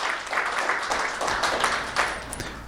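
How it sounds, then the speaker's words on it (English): An audience claps for a pastor at a panel presentation on lamenting racism, a moderate, steady patter of applause from a fairly small crowd. "Kelly, senior pastor of the Purpose Church, and give her a round of applause."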